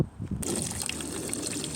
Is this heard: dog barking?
no